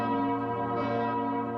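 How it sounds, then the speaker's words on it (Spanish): Church bells swinging and ringing together, a dense, sustained wash of overlapping metallic tones with no voices. "Cuando las campanas se balancean"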